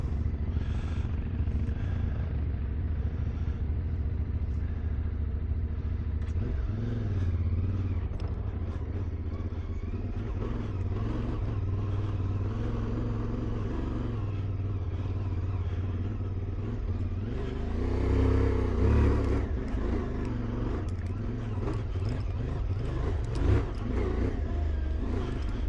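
Ibex 450 motorcycle ridden off-road through woods with traction control switched off, its engine droning continuously and close, with rising revs and throttle surges over rough ground.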